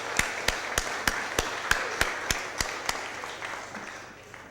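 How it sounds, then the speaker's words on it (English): Slow, evenly spaced claps ring out at a city Board of Aldermen meeting, about a dozen crisp hits in a steady rhythm that gradually fade, over a quiet room hum. "let's give them a big, big round of applause"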